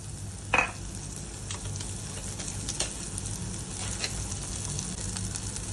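Oil sizzles steadily in a pan while okra is cooked for a Bengali dherosh chorchori, with a sharp clatter near the start and a few faint scrapes and taps, no voices.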